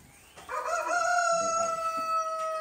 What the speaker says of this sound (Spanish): Está cantando el gallo.